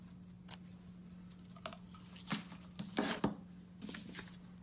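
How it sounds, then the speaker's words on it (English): Scissors snip the ends off a ruffled ribbon tied in a knot on a flower pot card, a few quiet, crisp cuts at irregular intervals over a steady low hum. "Chopping those ends off."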